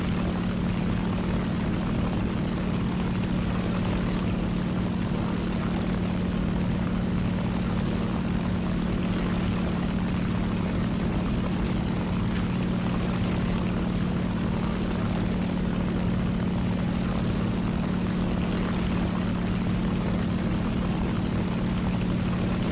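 A propeller aircraft engine in War Thunder drones at a constant loud pitch, a dense steady hum with no breaks throughout, alone and unchanging as the plane climbs.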